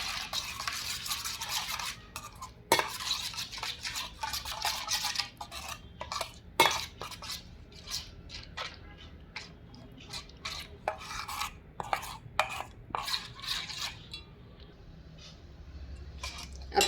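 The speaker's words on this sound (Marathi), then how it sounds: "आता हे पहा, आपल्याला छान असं मिक्स करून घ्यायचं आहे." A spoon stirs tandoori paneer tikka marinade with a little oil in a bowl, giving close, irregular scraping and clinking against the bowl with brief sharp knocks and wet mixing sounds. There is no talk.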